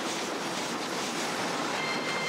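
Steady broadband rumble of a train rolling along rails in Red Dead Redemption, a continuous wash of track noise and wind with no voices, even in level throughout.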